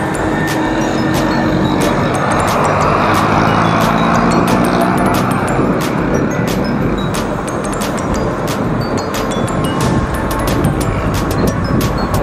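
Heavy road traffic rumbles close by as a car travels alongside a slow truck in Jala-Jala, Rizal, a continuous loud engine and tyre roar with scattered clicks and no talk.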